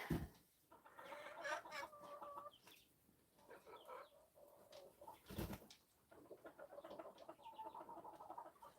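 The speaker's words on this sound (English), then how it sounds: "I fully just got attacked by a rooster." A rooster and other chickens cluck and squawk nearby in a series of agitated bursts during feeding, with a sharp flurry in the middle as the rooster attacks.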